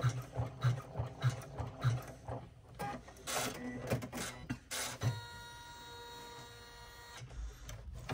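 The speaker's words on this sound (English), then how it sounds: "it's going to come over here and run a couple of travel stitches" An embroidery machine sews travel stitches on vinyl for a water bottle sling bag, giving a close, loud run of rapid rhythmic mechanical stitching pulses with a steadier whirring hum in the second half.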